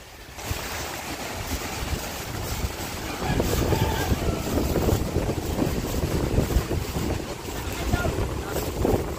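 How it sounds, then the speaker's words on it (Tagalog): Strong southwest monsoon wind roars across the microphone near open water beside a large moored boat, growing louder partway through, with waves sloshing and people talking faintly underneath. "Lalakas na ang hangin."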